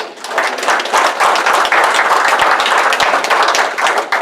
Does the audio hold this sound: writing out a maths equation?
no